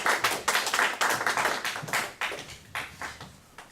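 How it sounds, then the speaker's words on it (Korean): Welcoming applause at a Korean graduate school spiritual retreat, a brisk run of close, sharp hand claps from a small audience for nearly four seconds. "우리 박수로 환영하겠습니다"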